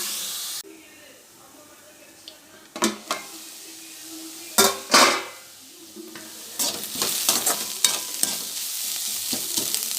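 Sandwich filling sautés in a pan with intermittent sizzling, loud scraping stirs and clinks of a spoon against metal, near and uneven, swelling into a busier fry toward the end.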